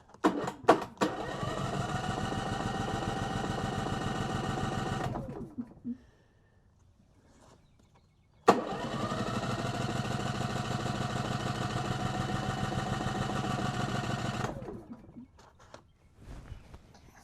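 A portable generator engine starts and runs steadily for about five seconds, then shuts off; after a short pause it fires up again and runs evenly, loud and close, for several more seconds before dying away.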